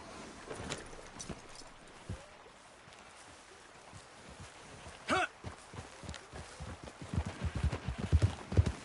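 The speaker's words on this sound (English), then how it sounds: "You could grab those horses if you want." Horses walk with irregular clip-clop hoofbeats in Red Dead Redemption 2, faint at first and growing louder and busier toward the end over a soft wind-like background.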